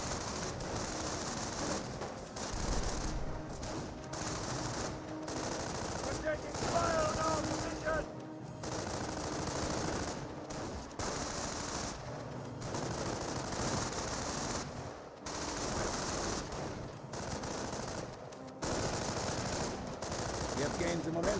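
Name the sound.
gunfire in the video game Company of Heroes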